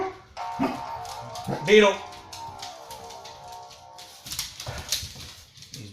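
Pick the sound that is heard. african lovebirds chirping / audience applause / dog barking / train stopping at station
dog barking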